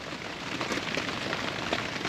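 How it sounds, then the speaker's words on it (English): Rain patters steadily at a carp fishing lake, a dense, even hiss of drops on surfaces close by with no voices. "It started raining again."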